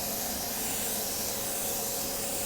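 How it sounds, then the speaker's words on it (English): Airbrush tanning spray gun hissing steadily during a spray tan session, a continuous close, even broadband spray with no pauses and no voices. "It's not like a whole long consistent spray."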